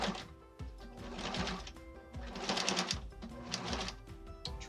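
A domestic sewing machine stitches a quilt block, running in a rapid, steady mechanical patter with brief pauses and restarts, close and moderately loud, with no talking.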